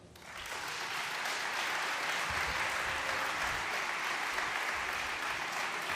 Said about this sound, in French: Merci de bien vouloir applaudir ce soir l'équipe qui m'entoure